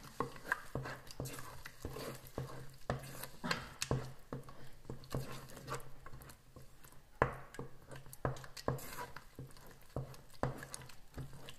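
Thick plantain paste stirred non-stop in a cooking pot, faint repeated soft thuds and sticky squelches in an irregular rhythm, close and quiet, no talk.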